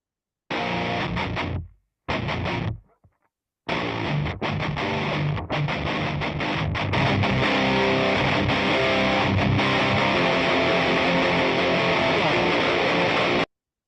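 Heavy distorted metal riff built on low power chords, from a metal arrangement of Lili Boulanger's Psaume CXXIX, starting with choppy stabs and gaps, then settling into a steady, brighter, fuller sustained section that stays loud to the end.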